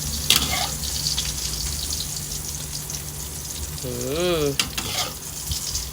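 A Thai basil omelette with chilies fries on high heat, giving a loud, steady sizzle and crackle throughout, with a brief vocal sound partway through.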